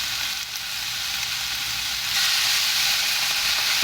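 Rice wine hits frying salt-and-pepper shrimp in a hot pan and sets off a steady, close hiss of sizzling that swells louder partway through, with no voices.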